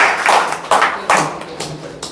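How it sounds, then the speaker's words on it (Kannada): Children at a school celebration clap in a few loud, separate bursts rather than a sustained round of applause. "ಜೋರಾದ ಚಪ್ಪಾಳೆ ಬರಬೇಕು ಮಕ್ಕಳಿಂದ"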